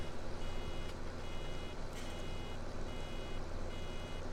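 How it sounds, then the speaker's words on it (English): In Farming Simulator 17, a farm machine's warning beeper gives a steady, evenly spaced series of short electronic beeps over a loud, constant engine drone heard from inside the cab. "Oh, this beeping is going to be really annoying."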